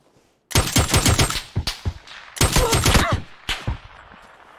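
Bursts of rapid automatic gunfire in PUBG erupt after a brief silence, loud and close, with a few separate shorter volleys following.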